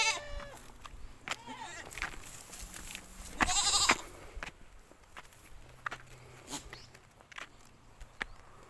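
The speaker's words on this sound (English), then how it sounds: "there's a goat over here. Let's say hello to this goat." A goat bleats once in a quavering call at the start, followed by footsteps on the ground and a brief burst of other noise, the animal close by in an outdoor village setting.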